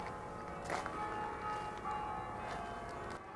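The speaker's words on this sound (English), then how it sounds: "It's just gone 12 o'clock and all the church bells are going." Church bells ringing at noon on a sacred mountain with chapels, faint and distant, with scattered clangs over a steady outdoor hum.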